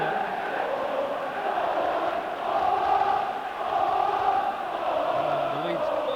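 Leeds United football crowd at a 1990 home match against Chelsea singing together, a loud, sustained wash of massed voices rolling continuously from a distance.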